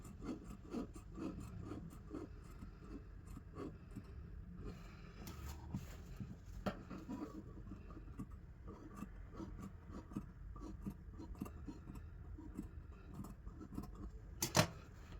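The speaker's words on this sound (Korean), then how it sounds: "가위밥을 둔다." Scissors snip a run of short, quick, quiet cuts into the curved edge of fabric while an apron is sewn, each cut a soft rasping click repeating steadily without speech.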